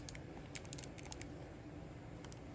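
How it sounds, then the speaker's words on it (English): Clicky micro switch joystick on a loose silver Neo Geo Pocket Color being worked rapidly, a quick irregular patter of small sharp clicks close up over faint hiss. "You can hear the clicky stick, the micro switch."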